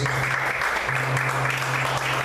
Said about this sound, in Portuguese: Vamos aplaudir o Senhor, queridos.